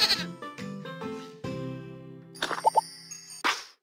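In a toddler animal game, a cartoon goat gives several short, wavering bleats, loud and close, with bubbly plop effects and a chime mixed in.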